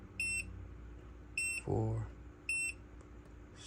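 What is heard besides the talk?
two confirmation beeps from gun safe fingerprint reader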